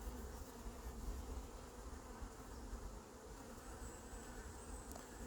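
Hornets and bees buzz steadily around beehives at an apiary, a faint, continuous drone of many wings with a few passing insects drifting nearer.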